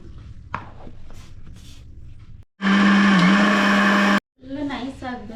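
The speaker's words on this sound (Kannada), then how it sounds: "ಇದು ನಾನು ಮಿಕ್ಸರ್ ಹಾಕೋ ಬರ್ತೀನಿ" A kitchen mixer grinder whirs in a loud, steady burst for under two seconds while grinding masala for a crab and fish curry, with talking and handling sounds before and after.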